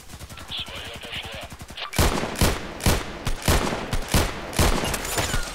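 Gunfire in the shooter game Contract Wars on the Lighthouse map: sharp, loud shots crack in quick repeated bursts after a short, quieter buildup.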